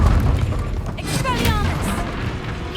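Confringo fire-blast spell explosions in the wizarding video game Hogwarts Legacy, a couple of crackling bursts with booming rumble in a continuous busy battle mix, heard loud and close.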